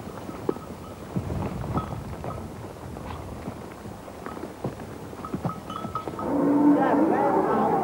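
Sheep bleat at an open-air livestock market in Ningxia along the Yellow River, short scattered calls amid crowd bustle and occasional clatter, with louder, busier noise toward the end.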